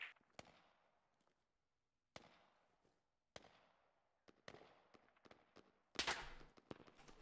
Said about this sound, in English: sniper just missed me in the tower